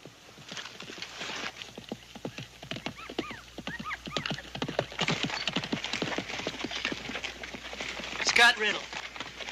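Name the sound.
horse hooves of a rider riding hard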